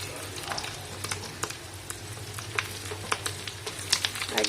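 Fish roe fries in a pan: a steady close-up sizzle is broken by frequent sharp crackles and pops in an irregular rhythm, with no one talking.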